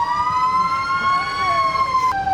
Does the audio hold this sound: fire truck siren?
yes